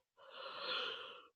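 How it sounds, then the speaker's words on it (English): A single drawn-out yawn with a breathy, wheezing quality, swelling over about a second and then tapering off, close and quiet, with no talking. "I hate yawning"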